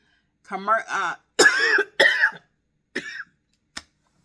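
A person coughs several times in short harsh bursts, with some voiced throat sounds between them and a final brief cough.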